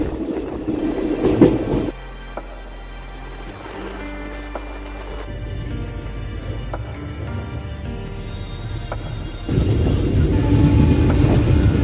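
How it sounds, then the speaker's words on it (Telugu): A train runs with a loud rumbling roar, then quieter rhythmic clicking and rattling of the wagons before the roar swells again, heard from on board with no talk. "ప్రపంచంలోనే సెకండ్ లాంగెస్ట్ రైల్వే కారు"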